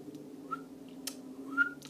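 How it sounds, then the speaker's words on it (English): Two faint, brief whistled notes, the second slightly higher, over a low steady hum in a quiet room. "I can't whistle today"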